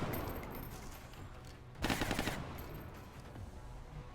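Suppressive gunfire in XCOM: Enemy Within, a single loud, rapid automatic burst lasting about half a second, set against a quiet game ambience with faint tones.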